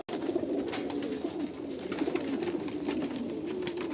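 A Sialkoti pigeon coos in a steady series of soft, low, throaty calls, close and fairly quiet, with no voices.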